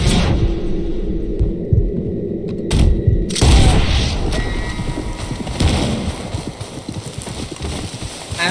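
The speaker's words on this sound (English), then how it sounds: "Where is this guy shooting from?" Gunfire in Red Dead Redemption 2, heavy booming shots and rumbling over a humming background, a couple of sharp blasts early followed by a dense, busy stretch of noise.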